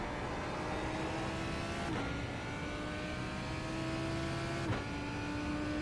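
V8 twin-turbo GT3 race car engine in a sim racing game, a steady sustained drone with slight pitch shifts and brief gear-change dips, loud and continuous with no talking.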